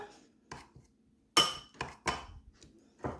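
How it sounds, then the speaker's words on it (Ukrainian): Spoon clinking against a bowl while whisking a dressing of oil, seasoning and pepper for a beetroot and rocket meat salad; several sharp, separate metallic clinks and scrapes, close and fairly loud, with quiet gaps between. "Тепер все це гарно перемішую для того, щоб воно гарно розчинилося."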